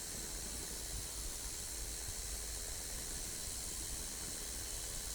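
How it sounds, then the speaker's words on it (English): Wind rushing past a small plane in flight, a steady, loud broadband hiss with a low engine rumble underneath, unbroken and even throughout. "you can actually hear the wind speed kind of slowing down and picking up"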